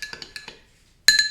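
A Halloween cocktail stirred in a glass with a spoon, light rapid clinks ringing against the glass, a brief pause, then a louder bright chime as the spoon strikes the rim, close and alone.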